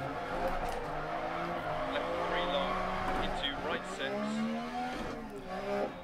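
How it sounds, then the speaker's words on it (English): A rally car engine in the video game Dirt Rally revs high and changes pitch repeatedly, with tire noise, while a person talks over it. "I love how high this engine can rev though."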